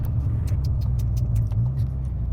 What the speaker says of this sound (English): I don't know whether you can hear that intake.